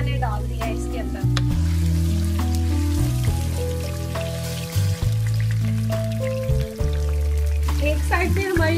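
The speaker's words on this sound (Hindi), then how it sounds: "एक साइड पे हमारी भिंडियां जो है, ओकरा भिंडी वो फ्राई हो रही है, दूसरी साइड पे मैं ये इधर ऑनियन जो है वो फ्राई कर रही हूँ।" Okra and onion fry in a pan with a steady sizzle, heard beneath prominent background music that continues throughout.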